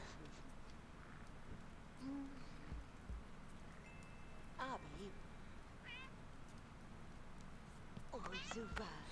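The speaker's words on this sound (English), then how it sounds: "This cat is so cute." A cat in The Sims 2 gives several short meows scattered among quiet game sounds, faint and in the background, with a streamer talking at moments.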